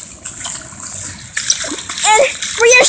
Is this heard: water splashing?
yes